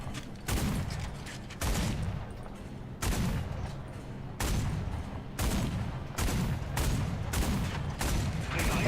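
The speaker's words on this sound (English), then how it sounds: "Let's try and shoot down this BF-110." Anti-aircraft gunfire from a French tank in the War Thunder video game firing at a BF-110, repeated loud bursts of rapid shots about every second or so, close and booming, without talk.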